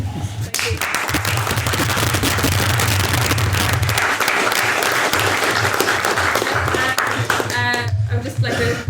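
Loud, sustained audience applause for a speaker at a debate on whether the West created ISIS, dense clapping filling the whole stretch with a few whoops and voices breaking through near the end.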